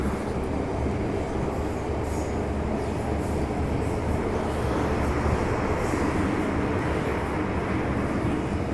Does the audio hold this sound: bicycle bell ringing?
no